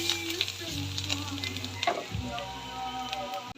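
Garlic sizzles and fries in hot butter in a pan, a close, steady crackling hiss with occasional stirring scrapes, heard alone with no talking.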